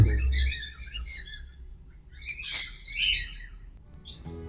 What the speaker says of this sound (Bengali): বন্ধুরা শুনতে পাচ্ছেন এই বাচ্চার বাবা কি সুন্দর করে শিখ দিচ্ছে